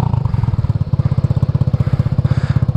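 A stunt scooter's small engine idles just after a first-kick start, a steady, close, loud putter with rapid even pulses and a light mechanical clatter throughout.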